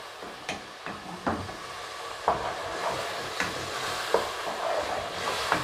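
Tomatoes for a bean and cabbage stew simmer and crackle softly in a pot, with a low steady sizzle and scattered small pops.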